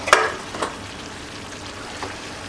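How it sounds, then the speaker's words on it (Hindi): Ker sangri vegetables frying in oil with turmeric, chili and other spices while being stirred, with a quiet sizzle and a couple of brief scraping stirs at moderate distance. "हमारे मसाले वगैरह सब भुन गए अच्छे से, इसको हिला दिया, ऊपर नीचे कर दिया"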